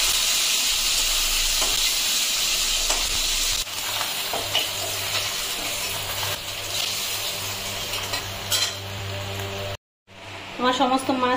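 Koi fish frying in hot oil for a spicy koi jhal, a steady loud sizzle that drops briefly and cuts out near the end before bubbling resumes, with some background talk.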